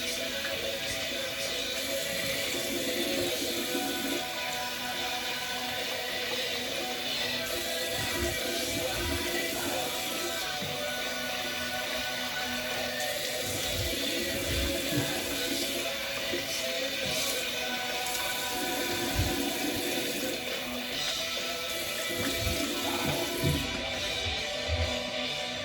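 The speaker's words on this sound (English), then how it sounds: "Let me rinse off." Water runs steadily from a tap into a sink as someone rinses off after a straight-razor shave, a continuous broadband splashing that carries on for the whole stretch with small shifts in flow.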